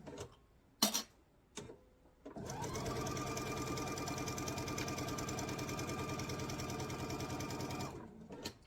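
A sewing machine stitches a quarter-inch seam on a sampler quilt block, a steady, fast mechanical whirring run of about six seconds that follows a few soft handling clicks.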